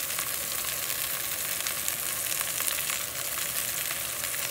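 Garlic cloves, fresh sage and black peppercorns sizzle steadily in a hot pan, a dense continuous frying hiss with faint crackles, close and alone throughout.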